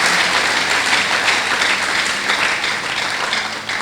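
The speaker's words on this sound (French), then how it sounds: "Acclamons la parole de Dieu." A church congregation bursts into sustained applause, a dense, even wash of clapping hands that holds steady for several seconds with no voices on top.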